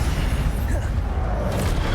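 Incendio fire spell blast in Hogwarts Legacy, a loud dense whooshing burst with booming low rumble filling the moment, mixed with game effects.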